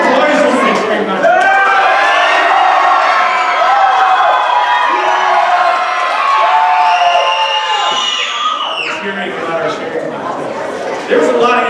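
Children at a church Vacation Bible School shout and cheer loudly as a vote for the boys' side in a cheering contest, a sustained roar of high voices that dips briefly near the end, with talk mixed in.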